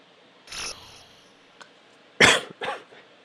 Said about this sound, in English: I don't know why I keep coughing